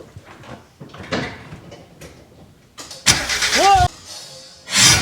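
A 1991 Honda Civic engine briefly cranking during maintenance, a short loud burst of starter churning amid outdoor noise, with people talking nearby.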